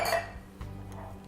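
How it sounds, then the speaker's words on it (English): The seal of a metal cocktail shaker is popped open while making a Caipirinha, producing one short, sharp metallic pop right at the start, followed by faint quiet handling. "And pop the seal"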